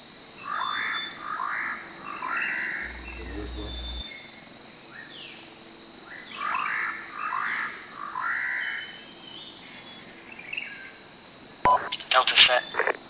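Frogs croak in repeated rhythmic bursts at a moderate distance, with insects buzzing steadily underneath and a sharp electronic beep near the end.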